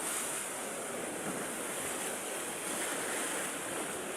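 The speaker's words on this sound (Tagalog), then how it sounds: "Sobrang lakas ng alon." Ocean waves surge and wash steadily in a broad, hissing roar, with wind blowing throughout and no distinct breaks.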